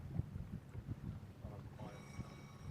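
Wind buffeting the microphone aboard a racing sailboat during a regatta off Helsinki, a steady low rumble with gusty swells and faint water noise, close and fairly loud.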